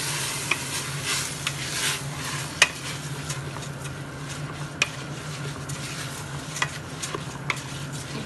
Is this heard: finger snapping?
no